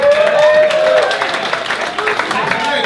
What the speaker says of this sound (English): Round of applause if you're a drinker.